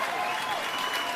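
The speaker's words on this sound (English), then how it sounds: "see the old school parents clapping right now" Parents in an audience clapping, a brief burst of steady applause heard at moderate distance.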